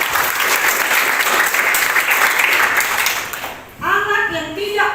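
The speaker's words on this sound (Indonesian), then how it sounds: "Ya, tepuk tangan untuk Estrin." A classroom bursts into applause for a student after a drama lesson performance. The clapping is dense and steady, then fades, and a voice starts talking over the last second.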